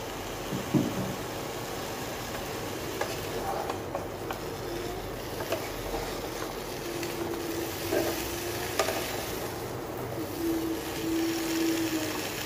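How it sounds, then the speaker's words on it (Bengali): Vegetables fry in a hot wok, giving a continuous close sizzle under repeated scraping and stirring strokes that run throughout. "কড়াইয়ের মধ্যে দিয়ে দিলাম এই যে সবজিগুলো একটু ভাজা ভাজা করে"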